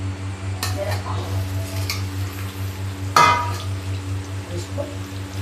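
Mango pieces for a sweet mango pickle go into a pan with fried chillies and asafoetida, giving a soft steady sizzle with occasional clinks and one louder clatter of pieces hitting the pan.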